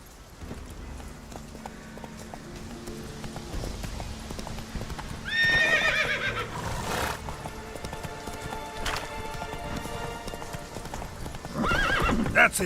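Roach, Geralt's horse in The Witcher 3, gallops with steady clip-clop hoofbeats, whinnying loudly around the middle and again near the end, over a low ambient game background.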